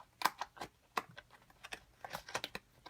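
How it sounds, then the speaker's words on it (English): A blade cuts along a score line while making a box bag, giving a quick run of sharp, dry ticks and taps at an uneven rhythm, close and fairly quiet with no talk. "We are going to cut up the score line right here."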